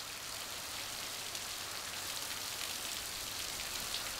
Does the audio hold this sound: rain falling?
yes